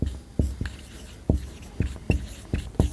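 Physics formulas for a class 12 lesson on cells are written out, producing crisp tapping strokes at an uneven pace, close and clear with no talking over them.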